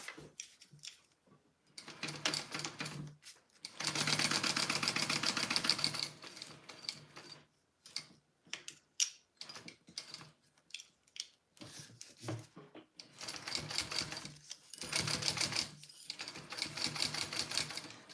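A sewing machine top stitches a Riverwalk sling bag in bursts of rapid mechanical whirring, stopping and starting with quiet pauses and small handling clicks between runs.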